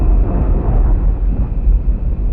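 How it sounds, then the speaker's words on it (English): Deep underwater explosion in the submarine game Cold Waters, a loud, sustained low rumble lasting a couple of seconds with no voices over it. "Yeah, there is another explosion."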